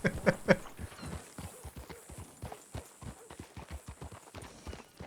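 Horse hooves clip-clop in a video game, a quick sequence of light, close hoofbeats, fairly quiet, with brief speech at the start.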